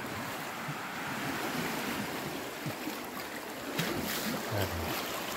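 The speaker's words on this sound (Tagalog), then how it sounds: "Habang di pa malakas ang alon." Ocean waves wash against the rocks below a cliff trail, a broad, continuous surf roar mixed with wind buffeting the microphone, with a few faint low thumps and splashes along the way.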